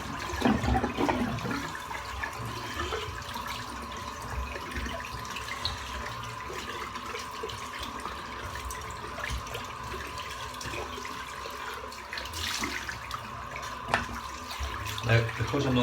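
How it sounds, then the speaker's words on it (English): Dirty shaving water is poured out and drained into a sink, a running, gurgling splash with drips and rattles that continues throughout. "I'm just going to empty this water out because it's getting a bit dirty now."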